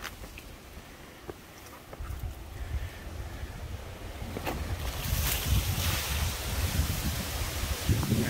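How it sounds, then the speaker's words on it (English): Steady wind rushing across exposed rocks on the High Rock Trail, a broad outdoor roar that builds and grows louder toward the end, with no voices. "it gets very windy"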